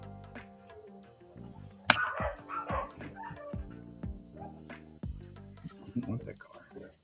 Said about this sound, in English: Dogs are freaking out about.